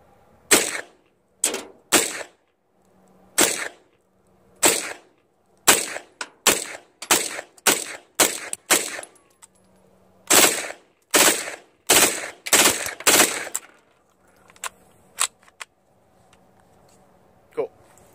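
A PTR 9CT fires MagTech 115 grain brass-cased rounds, one magazine unsuppressed and then suppressed, making loud, sharp shots close by in irregular single and paired bursts, with brief pauses between strings.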